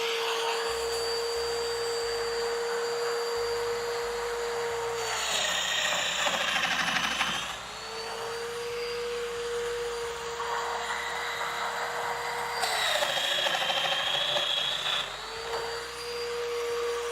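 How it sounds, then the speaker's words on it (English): A vacuum cleaner runs steadily indoors during a building session, its motor whine holding a constant pitch and rising twice in strained, louder surges before settling back, with faint mechanical clicks underneath. "Let me turn off the vacuum."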